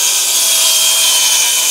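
Sawing timber for garden room walls: a loud, continuous, hissing power-saw cut held steady and close for under two seconds, with no voices.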